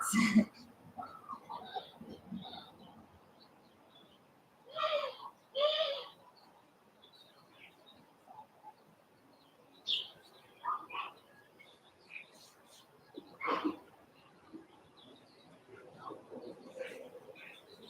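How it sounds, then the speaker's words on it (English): Birds call and sing outdoors in short scattered bursts, some coo-like and some chirping, fairly faint with quiet gaps between calls. "It's my music today, birds."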